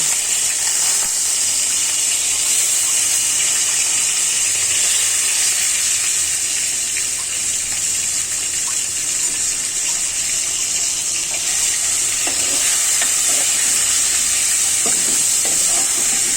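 Koi fish sizzle in a hot pan with spluttering cumin seeds, a loud, steady hiss of frying that runs on without a break.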